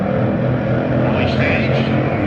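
Drag racing hot rod engine revving loud and steady at the start line at a hot rod reunion finals, with a crowd and a commentator's voice mixed in beneath the roar.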